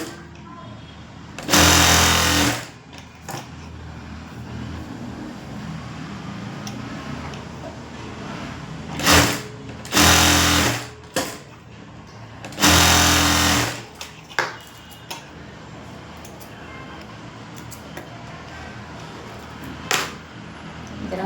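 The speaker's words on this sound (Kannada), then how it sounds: "ಒಂದು ಸ್ಟಿಚಿಂಗ್ ಹಾಕ್ಕೋಬೇಕು" Sewing machine stitching folded fabric for a dori (drawstring cord), running in several short bursts separated by pauses, with a few faint ticks and clicks in between.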